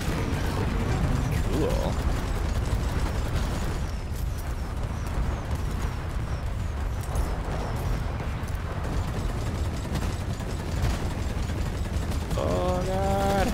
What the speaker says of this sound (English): Cluster grenade! Dude, that grenade's actually super strong